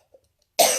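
A single sharp, close cough bursts out after near silence, loud and brief, as a person clears an irritated throat in a room with a fan running.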